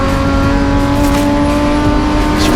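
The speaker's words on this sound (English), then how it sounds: "So we pick up on that lead car, of course, of Neon Detoy. There it comes, down the hill" A BMW E36 M3 race car at Zwartkops raceway roars past downhill in a race, a loud, steady, high-revving engine drone that stays strong and continuous throughout.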